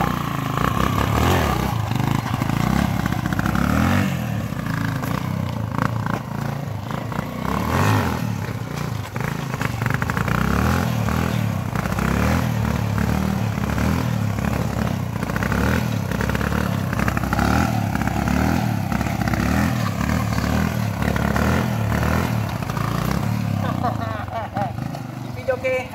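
A Yamaha XTZ 125 motorcycle engine revs loud and close during stunts, rising and falling steadily throughout with rattling clatter and a voice talking over it.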